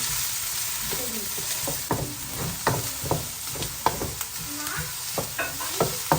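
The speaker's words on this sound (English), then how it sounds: "Oil's nice and hot, so just give it a nice little stir." Finely chopped onions sizzle in hot oil for a one-pot chilli con carne, with a spoon scraping and stirring in repeated strokes roughly every half second over a steady close frying hiss.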